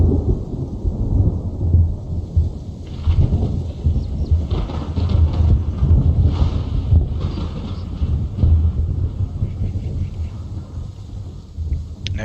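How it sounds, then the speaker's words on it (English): Distant, low thunder rumbles through a sustained ambient soundscape built in Unreal Engine 4, with no talking, a broad steady roll like a storm over the whole stretch. "in the background there, you might have heard a little bit of thunder"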